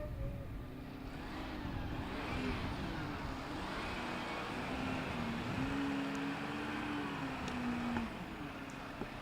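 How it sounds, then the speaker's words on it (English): A trash pickup truck rumbles past near an airport during plane spotting at Boston Logan. A steady low engine drone runs throughout, with a rising and falling whine, and the noise holds fairly constant and close. "That's a trash pickup truck."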